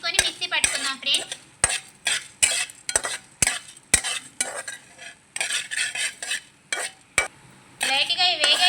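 A spoon stirs and scrapes ingredients being lightly roasted on low heat in a pan for tomato rasam, with steady sizzling and repeated sharp metallic clinks close by.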